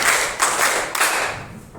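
A few crisp, close hand claps land in a rhythmic pattern during a classroom clapping exercise, each sharp clap followed by a short fade.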